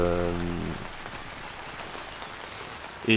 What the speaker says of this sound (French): En tout cas là il pleut à mort.